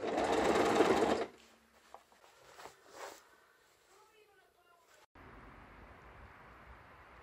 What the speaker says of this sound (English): Sew it along there like that.